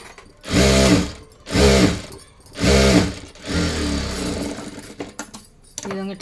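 Sewing machine stitching blouse fabric for a boat-neck blouse, three loud close bursts of rapid mechanical whirring with short pauses, then a longer softer run of stitching.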